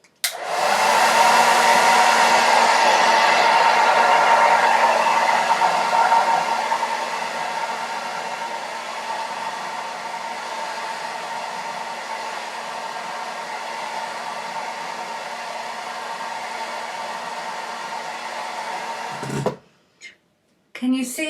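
A handheld hair dryer blows a loud, steady whoosh while hair is styled for volume, easing to a lower level partway through before cutting off near the end, with a few brief sounds after.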